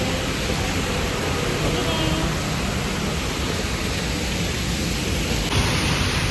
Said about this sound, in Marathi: जाता जाता एवढा मोठा पाऊस आलेला आहे